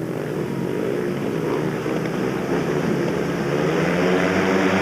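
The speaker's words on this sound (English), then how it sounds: "Up go the Revs, up come the tapes, and away they go." Speedway motorcycles rev hard at the start of a heat at the British Grand Prix, a dense, steady roar of engines that swells slightly toward the end, loud and continuous with no talk.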